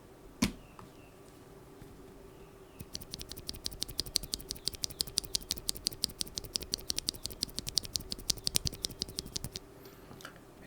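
A freshly made Kailh Cream mechanical keyboard switch is pressed over and over. A single click comes first, then a rapid, even train of crisp, close clacks runs for several seconds.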